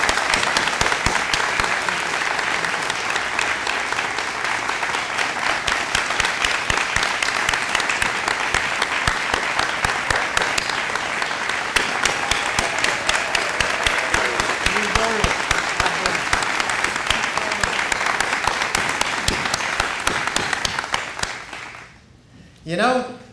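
Sustained audience applause at a Carowinds event announcing the Intimidator roller coaster, a dense crowd of clapping hands that holds steady for over twenty seconds before fading quickly near the end.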